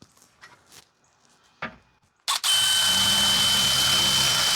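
A few quiet clicks and handling knocks, then a power tool starts loudly and runs steadily with a high whine while bolting a 2x4 to a support beam in a woodshop.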